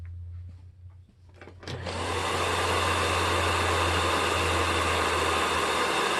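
Rainbow E2 Black vacuum cleaner switches on after a few quiet seconds with faint knocks, then runs close and loud with a steady, full-bodied motor whine and rushing airflow that holds unchanged to the end.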